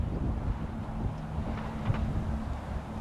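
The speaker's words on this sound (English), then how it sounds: "So this thing's really windy." Steady wind buffeting a microphone outdoors, a constant low rumble with gusty fluctuations throughout and no voices.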